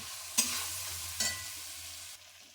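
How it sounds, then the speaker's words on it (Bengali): Spice masala for a vegetarian paneer and pointed gourd dish, made without onion or garlic, sizzles steadily in a pan with a hiss, broken by two sharp stirring scrapes. "সেই মশলাটা ভালো করে কষিয়ে নেব"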